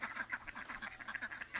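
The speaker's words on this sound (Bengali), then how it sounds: "হাঁসগুলো একদম প্যাতিলেট করে খাইতে দেবো, ধানের জন্য চলে আসতেছে" A flock of ducks coming in for paddy grain quack in a rapid, overlapping chatter, faint and continuous throughout.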